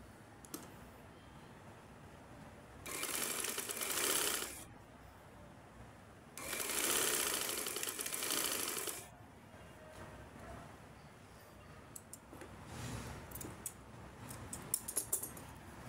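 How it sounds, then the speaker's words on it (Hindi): Sewing machine stitching the side seam of an old shirt being remade into a frock, two loud sustained runs of about two seconds each separated by pauses, followed by a softer brief burst and light clicks. "इसी तरह मैं दूसरी साइड की भी सिलाई लगाती हूँ।"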